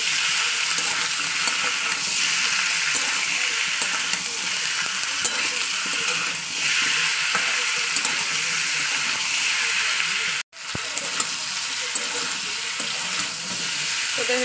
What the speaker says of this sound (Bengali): মাংসটা দেওয়ার পরে আমি আবার 2-3 মিনিট একটু ভাজা ভাজা করে নেবো